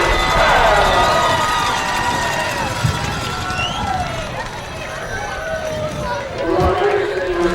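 A football crowd at a high school game between Handford West and Ridgeview cheers after a touchdown, a broad roar that fades and swells again under steady commentary.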